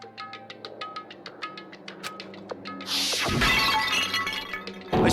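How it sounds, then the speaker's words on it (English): Bottle smashed over someone's head in the video game Danganronpa: a run of light glassy clinks, then a loud, sudden shatter of breaking glass with scattering fragments, and a second crash right at the end. "I grabbed the Monokuma bottle from the shelf and smashed it across her head."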